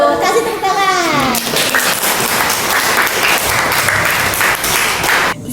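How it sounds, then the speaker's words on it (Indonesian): A classroom full of people claps loudly and steadily for several seconds, with a voice briefly audible at the start. "Kasih tepuk tangan."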